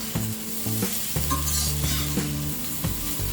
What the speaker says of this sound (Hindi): इसे हम 2 मिनट तक और फ्राई करेंगे। हमने इसे 2 मिनट तक लो फ्लेम में फ्राई कर लिया है।